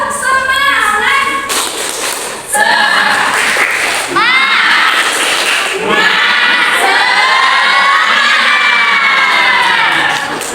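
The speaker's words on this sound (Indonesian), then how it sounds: "Ayo kita tepuk semangat." A classroom of children performs a spirit clap chant together, loud shouted voices rising and falling in unison with claps mixed in, near and energetic throughout.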